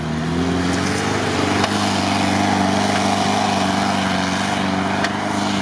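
A Jeep Wrangler Rubicon with an automatic gearbox idles and rumbles steadily at close range, a powerful, low, constant engine drone with no speech.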